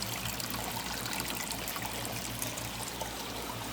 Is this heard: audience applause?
no